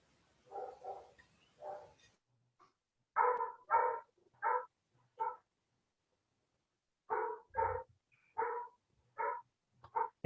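A dog barks in short clusters of sharp, repeated woofs separated by pauses of silence, moderately close but not loud, with no other sound around it.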